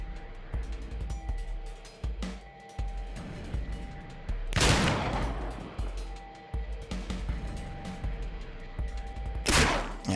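Gunfire from the turn-based video game Dead State, with two sharp broadband bursts standing out over a continuous bed of game music and ambience, and some faint background speech.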